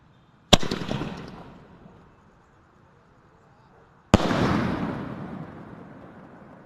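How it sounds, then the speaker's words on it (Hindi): A big blue sky shot firework is lit and goes off in two loud separate blasts, each a sharp crack trailing into a crackling, hissing decay, with quiet outdoor stretches between. "ब्लू वाला बड़ा स्काई शॉट"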